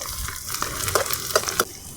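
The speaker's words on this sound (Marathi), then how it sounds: "तर यामध्ये आपण आता लसूण तळून घेणार आहोत" Garlic and ginger frying in a pan for a home-style misal, a steady close sizzle with a few sharper crackles and spatters rising over it, no voices.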